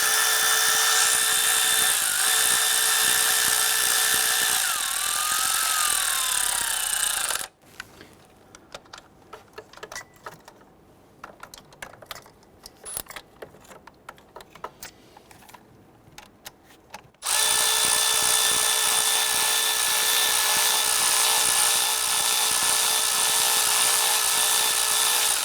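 A power tool, likely an impact or drill, snugs down intake manifold bolts on a 1999-2004 Jeep Grand Cherokee 4.7L V8, running loud and steady for several seconds, then stopping for a quieter stretch of clicks before resuming.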